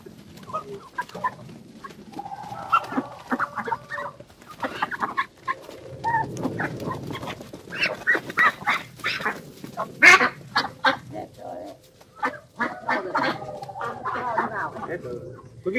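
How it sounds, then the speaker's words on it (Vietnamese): A mixed flock of farmyard ducks and chickens clucks, quacks and honks in scattered bursts at close range, while someone talks over the birds throughout. "Các bạn thấy đàn vịt của cô đẹp không?"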